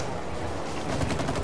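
Dense, continuous gunfire from the co-op video game It Takes Two, a steady rattling barrage that holds at full volume throughout and swells slightly toward the end.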